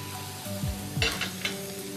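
Peeled, deveined shrimp hit a pan of frying onion, garlic and ginger with a close sizzle, a couple of low knocks as they go in, then bursts of crackling over a steady hiss.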